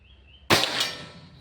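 A single sharp shot from a Bocap Pajero Gun Gen 6 toy gun cracks out loud and close, its bright burst trailing off into a short fading tail after a quiet moment.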